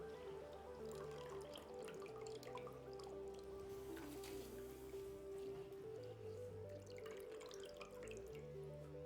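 Quiet, continuous bubbling and soft popping of rice for biryani boiling in a pot of water, with a low steady hum underneath.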